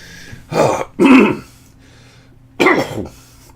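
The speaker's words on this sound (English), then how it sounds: "Clear my throat there for the afternoon." A person clears their throat in three rough bursts, close to the microphone, with brief quiet gaps between them and no speech.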